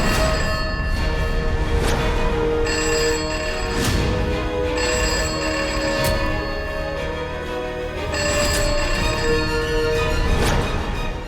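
A telephone rings loudly and continuously with a repeating electronic melodic ringtone, pulsing in regular cycles with no talking over it.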